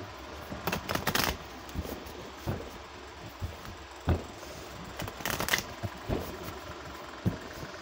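Oracle card deck being shuffled by hand, a quiet riffling and shuffling with bursts of papery clicks and soft handling noises, close and faint.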